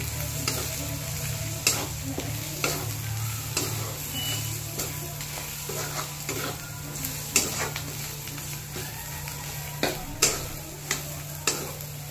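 Masala with red chili powder being sautéed in a pan for dhaba-style shev bhaji, a steady soft sizzle with scraping stirs and small ticks throughout, close and moderately loud, with no talking.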